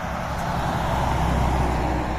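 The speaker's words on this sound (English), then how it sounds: "oh, that's Costco's truck" A Costco delivery truck rolls past on a residential street, a steady low rumble of engine and tire noise that swells slightly mid-pass, close by and with no voices over it.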